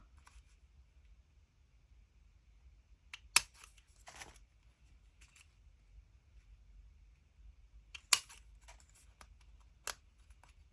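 Scissors cutting paper during a Halloween papercraft session, a few crisp isolated snips spaced seconds apart, close and quiet against near silence.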